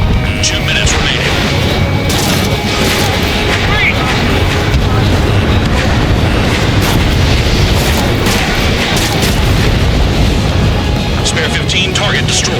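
Explosions and heavy booms during an Ace Combat 7 air combat mission, a continuous dense roar of blasts and rumbling at high volume throughout, with radio voices talking over the din.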